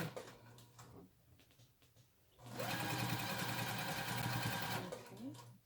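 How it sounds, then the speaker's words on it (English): A sewing machine runs steadily for about two seconds, stitching a quilt border on with a 1/4 inch seam, after a quieter stretch of soft handling sounds. "using a 1/4 inch seam, we're going to go ahead and just sew that right on."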